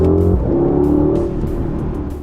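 A Mercedes-AMG GLE 63 S V8 engine drones loudly from inside the cabin as a deep, steady hum that rises slightly in pitch, mixed with synthetic engine sound piped through the speakers, with no talking.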